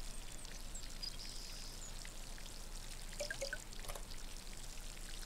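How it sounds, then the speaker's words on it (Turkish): Water poured onto plants in a relaxing farming video game, a steady soft trickle and splashing drip with a few brighter droplet plinks near the middle, no talking. "Hemen bir sulama işlemi yapıyoruz şuradan. Suyumuzu bol verelim de susuz kalmasın burada bitkiler."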